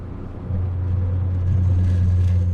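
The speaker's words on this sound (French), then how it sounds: "elle broute à pratiquement toutes les vitesses" A Renault Twingo 1 with an ignition fault runs with a loud, close, low engine rumble that drones steadily and thickens slightly as it goes.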